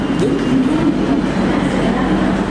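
A passenger train coach rolls along a station platform with a loud, steady low rumble of wheels and carriages close by.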